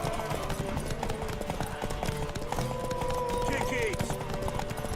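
Horse hooves clip-clop at a steady, rapid galloping beat in the Witcher 3 video game, running continuously beneath game music and ambient sound.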